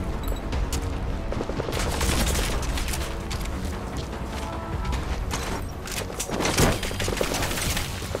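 Rapid bursts of gunfire from a stealth action video game, dense overlapping shots and a heavier boom near the middle, loud and continuous throughout.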